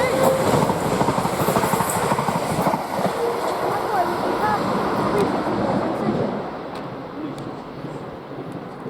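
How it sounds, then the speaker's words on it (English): A Thameslink train rumbles through West Hampstead station, a loud, close, continuous roar of wheels and carriages that fades slightly toward the end. "there's a Thameslink service"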